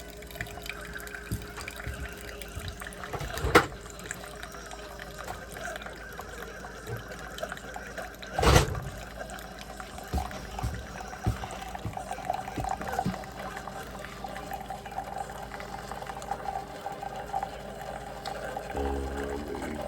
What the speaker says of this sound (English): I'll leave you there while the coffee's brewing